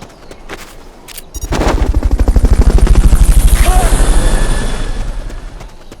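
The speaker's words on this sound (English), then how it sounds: "Fulton recovery helicopter is complete." A helicopter's rotor thumps in rapid rhythm in the video game Metal Gear Solid: Peace Walker, building loud and close, after a few sharp shots, with a brief voice-like blip under the noise.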